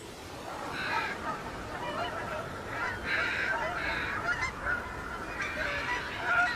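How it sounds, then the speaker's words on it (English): Water birds honk repeatedly on the Mississippi River in autumn, goose-like calls coming in overlapping bursts at moderate distance over a steady background hiss. "Once again, the Mississippi becomes a crossroads for water birds."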